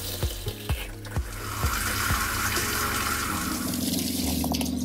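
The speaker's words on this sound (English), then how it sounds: "we're going to run fresh water through each of the fixtures." Fresh water flushing through the faucet fixtures of a TAB 320 camper, a few sharp clanks and knocks at first, then a steady, close rush of running water into a sink that continues to the end.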